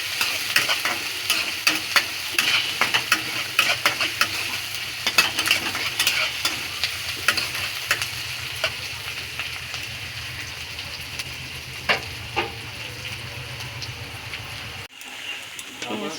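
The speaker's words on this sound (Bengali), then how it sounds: "সামান্য লালচে লালচে করে ভেজে নিচ্ছি পেঁয়াজগুলোকে।" Onions frying in a pan for khichuri, steady sizzling under frequent scraping stir strokes throughout, close and fairly loud before a brief pause near the end.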